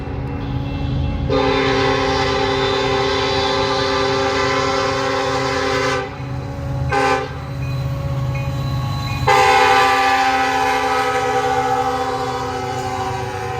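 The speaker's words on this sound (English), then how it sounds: "we see the daily eastbound intermodal train bound for Atlanta with KCS 4006, and saluting our veterans unit leading" An eastbound intermodal freight train led by a KCS locomotive passes near Meridian, Mississippi, blowing long, loud multi-tone horn blasts with brief breaks, over the steady rumble of rolling cars.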